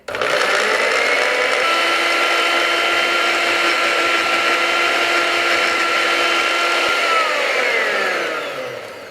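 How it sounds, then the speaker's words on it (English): A blender whirs steadily as it pulverizes shallot for a walnut vinaigrette, a loud continuous motor drone that runs alone for several seconds before winding down at the end. "I'm actually gonna blend this up a little bit first before I add the blue cheese and the walnut oil"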